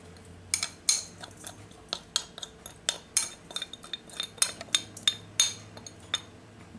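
A metal spoon scraping minced garlic from a container into a pan of cooking meatballs, a series of sharp, close clinks and scrapes in an irregular rhythm with no talking.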